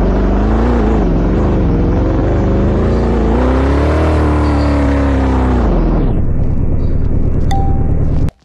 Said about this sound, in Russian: Вот у нас вот так машина.